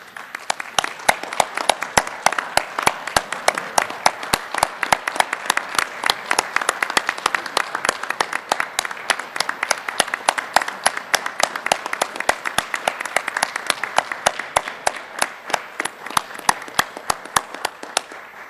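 Sustained applause from an audience saluting Korean veterans at a Terryville High School veteran recognition event, with dense, steady clapping running the full length without a break.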